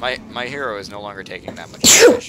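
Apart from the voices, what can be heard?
sneeze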